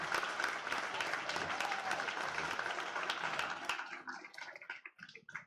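A student awards night audience breaks into sustained applause for the winners, a dense wash of claps that thins toward the end into scattered individual claps.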